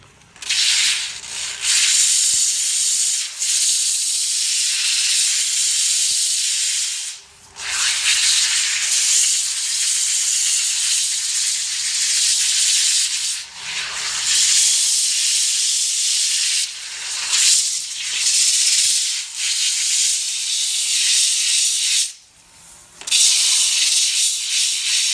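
Diamond-encrusted pads wet-sand a concrete countertop with a loud, close, gritty hissing rasp that runs in long sustained passes broken by a few brief pauses.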